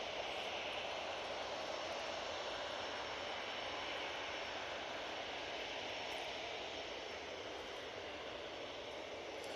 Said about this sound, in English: I'm guessing you heard the reversers